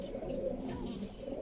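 Five young pigeon squabs coo softly and faintly, a low steady burbling murmur that runs for a moment with no other sounds.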